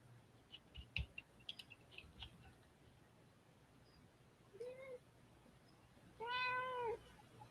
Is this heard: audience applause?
no